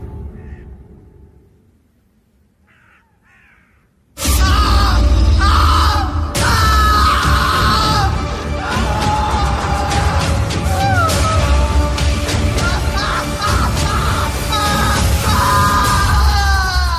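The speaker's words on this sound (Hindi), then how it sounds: "पूरे माहौल में बस कौशिक की चीखें गूंज रही थी।" A man's screams echo through a horror story set during a long drive, loud and sustained, with layered dramatic sound effects after a brief quiet opening.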